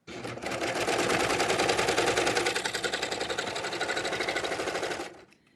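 Serger overlock machine sewing a gather, a loud close rapid mechanical chatter running continuously for about five seconds before stopping abruptly.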